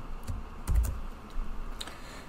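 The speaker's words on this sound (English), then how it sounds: "I can use a keyboard shortcut to open a link in a new tab." Computer keyboard keys pressed to trigger shortcuts while browsing in Firefox, a few separate clicks with one firmer double tap in the middle, close and fairly quiet with no talking.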